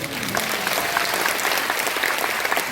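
Crowd applause at a political rally in Incheon, dense steady clapping from many hands, close and moderately loud.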